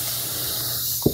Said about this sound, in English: spray it down, kind of a mist it here